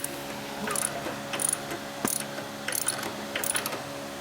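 A ratchet wrench torques a bolt on a Harley-Davidson Evo engine during a 1993 FXR stroker build, clicking in short, evenly spaced bursts at close range in a quiet shop.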